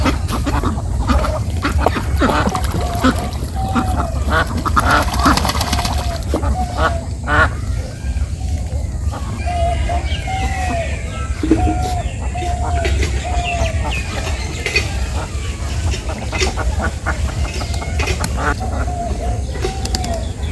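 Ducks quack repeatedly in short nasal bursts against a steady outdoor village background on a cold winter morning, with chickens clucking nearby and occasional voices mixed in.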